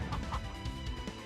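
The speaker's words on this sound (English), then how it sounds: "See how powerful we can make that chicken attack." A chicken attack in the video game Cthulhu Saves Christmas produces rapid, repeated clucking bursts mixed with soft game effects, steady and fairly quiet with no talking.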